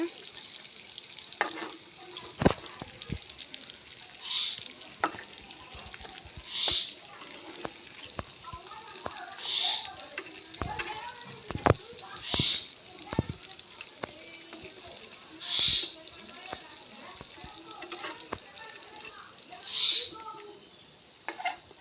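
A rohu fish head fries in oil with a steady, close sizzle, broken by repeated soft scrapes and clatters as the pieces are turned; a voice talks intermittently over the cooking.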